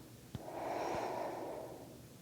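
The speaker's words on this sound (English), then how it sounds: "Take a deep breath in." One long, deep breath drawn in during a yoga pose, a soft breathy rush lasting about two seconds after a brief click, close and alone with no talk.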